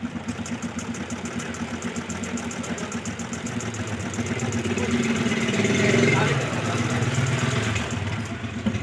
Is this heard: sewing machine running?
yes